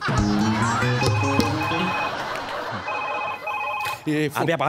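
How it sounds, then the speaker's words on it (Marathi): A telephone bell rings in bursts of a high electronic tone, loud and near, mixed with musical sounds and people talking around it, during a Marathi TV comedy show. "फोन आला. बायकोचा फोन सर."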